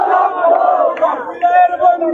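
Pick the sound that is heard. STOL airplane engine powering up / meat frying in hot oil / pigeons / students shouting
students shouting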